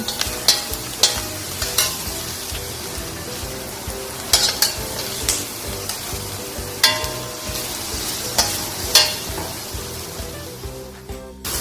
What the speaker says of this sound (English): Keep sauteing till they become nice and brown, slightly brown.